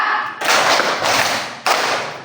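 Group clapping in a classroom counting clap game, a few loud sharp clap bursts from many hands landing together, each followed by a brief ring-out.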